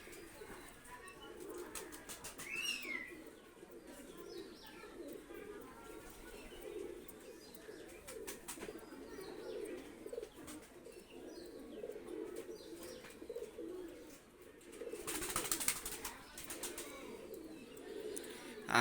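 Pakistani high-flyer pigeons coo softly in a low, rolling murmur, with occasional chirps and a brief flutter of wings, fairly faint and close.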